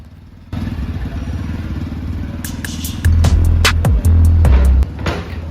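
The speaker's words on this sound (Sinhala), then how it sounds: "අපි version 4 එකක් පොඩ්ඩක් පැදලා බලමු කොහොමද අලුත් බයික් එක කියලා." A new Yamaha version 4 motorcycle starts up and is ridden, its engine running steadily, then revving louder and rougher midway, with clattering thumps and clicks over the close engine note.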